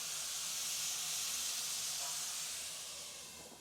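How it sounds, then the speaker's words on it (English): Steady hiss of water steaming inside a covered pan where sea bass rests on vegetables, a continuous broadband rush that holds level and then fades slightly toward the end, with no talking. "I'm going to cover it all up and I'm going to allow it to steam"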